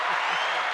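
Applause sound effect played from a soundboard, a steady burst of crowd clapping and cheering, loud and even throughout, with faint voices underneath.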